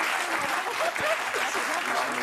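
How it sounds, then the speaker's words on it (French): Steady applause from a French TV studio audience fills the whole moment, dense and continuous, with a voice briefly audible beneath the clapping. "Gilles Verdez qui n'a jamais été autant applaudi"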